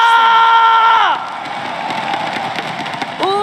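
Crowd cheers and claps at an MPL Indonesia Season 11 Mobile Legends playoff match between RRQ and EVOS. A loud, drawn-out vocal shout opens and then drops to a lively roar of cheering and scattered claps before another shout rises at the end.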